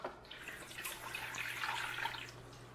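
Water pours steadily into a bowl as the first step of mixing pizza dough, a continuous close splashing and trickling that runs for the whole stretch with no one talking.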